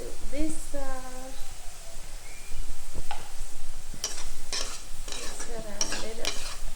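Onion, garlic and turmeric sizzle in a frying pan while a spoon scrapes and stirs them, steady crackling frying with sharp scraping clicks, a voice talking over it at the start.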